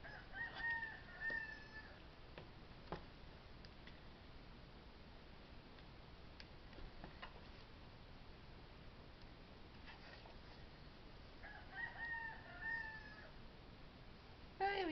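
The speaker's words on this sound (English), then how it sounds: "You might be able to hear my rooster." A rooster crows outdoors beyond an open window, two distant bursts at the start and near the end, faint against a quiet room with light rustling.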